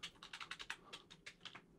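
Quick, quiet clicks of a computer keyboard as text is typed, an uneven run of separate keystrokes at close range.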